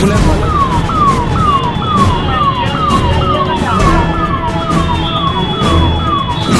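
A wailing ambulance siren sweeps up and down repeatedly over a steady roar of city traffic in Indore, loud and close throughout.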